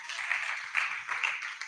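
Audience applause at a skills-training talk, soft and somewhat distant, with a short steady patter of many hands clapping.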